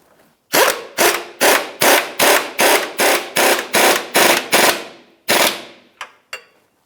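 An impact or power wrench tightens the rack and pinion mounting nuts on a 2002-2009 Chevrolet Trailblazer, about ten loud, close rattling bursts in a fast even series, then two shorter taps, no talking.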